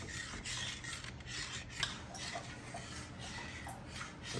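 Curry powder being stirred into a pot of homemade BBQ sauce, giving a steady scraping and rubbing of a spoon against the pan with occasional small clinks, close and continuous, no talking.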